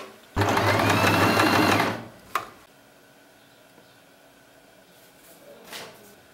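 A Janome Green 19 sewing machine runs in a loud burst of steady, rapid stitching for about a second and a half, then stops, followed by a brief click and quiet room noise.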